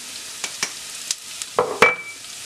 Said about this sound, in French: Et je vais continuer à brasser ça pour blanchir un peu le riz.